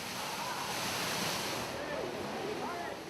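Steady, loud rush of Niagara Falls fills the whole clip, a constant roaring wash with no breaks, close by.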